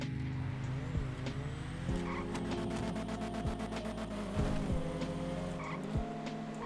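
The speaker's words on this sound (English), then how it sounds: "let off the gas, touch on the e-brake and the regular brake at the same time, let off, and then go right back on the gas." Engine revving with a gear-change dip and brief tire noise from a car brake boosting in the video game GTA 5, a steady game engine drone with short transients and no talk.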